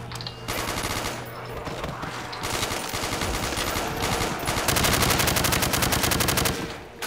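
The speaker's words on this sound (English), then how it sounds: "Whose gun is that?" Machine-gun fire in Call of Duty: World at War custom Zombies, with long sustained bursts of rapid automatic shots, loud and close, the rattling densest toward the end before a sudden stop.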